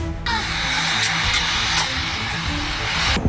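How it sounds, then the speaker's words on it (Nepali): Nepalese army helicopter flying during unrest, heard as a steady, loud broadband engine and rotor roar that holds throughout without pause. "प्रधानमन्त्री केपी शर्मा ओली सेनाको हेलिकप्टरमा भाग्न बाध्य हुन्छ।"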